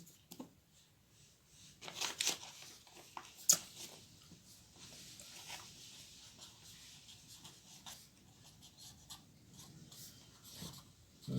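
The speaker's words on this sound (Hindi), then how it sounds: "पहले इसकी हेडिंग हम लिखेंगे" A heading written by hand in a physics lesson: faint, close scratching and rubbing of a pen on paper in irregular strokes, with a few slightly louder taps and scrapes.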